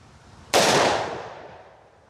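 A single sharp gunshot from a Smith & Wesson M&P 10mm Carry Comp pistol, loud and close, with a sudden crack followed by a decaying echo tail.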